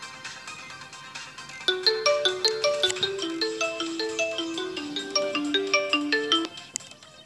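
A phone ringtone for an incoming call plays a repeating melodic pattern of bright tones, starting about a second and a half in and continuing steadily for roughly five seconds before stopping, fairly clear with faint room noise underneath.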